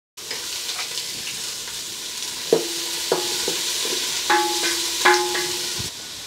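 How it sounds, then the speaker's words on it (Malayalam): Onions fry in coconut oil in a village kitchen in Kenya, with a steady bright sizzle and a series of ringing metallic taps and scrapes from a utensil on the pan. "അപ്പോൾ അതിന് വേണ്ടിയിട്ട് ചേച്ചി വെളിച്ചെണ്ണ ഒഴിച്ചിട്ടുണ്ട്. ചേച്ചി ആദ്യം നമ്മൾ ചെയ്യുന്ന പോലെ സവാള ഇട്ടു."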